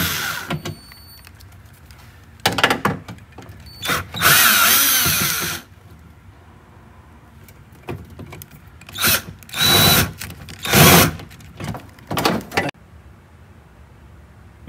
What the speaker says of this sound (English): now we're gonna run them out with the drill